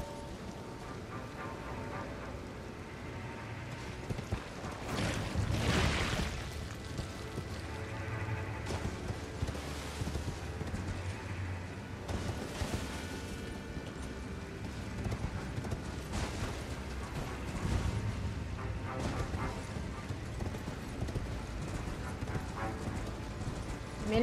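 A horse galloping in the video game Elden Ring Shadow of the Erdtree, with a continuous rhythmic clip-clop of hooves under game ambience and music, moderately loud throughout.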